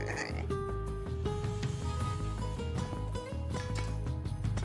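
Pig oinking in the video game Age of Mythology: Retold, a fairly loud grunting run that plays over steady background game music.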